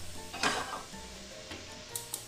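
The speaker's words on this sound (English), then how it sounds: "I'm gonna put it on high heat because I want it to get that good sizzle." Sausage frying in a hot pan on high heat gives a soft, steady sizzle, with clinks and scrapes of a utensil stirring against the pan and a few sharper taps near the end.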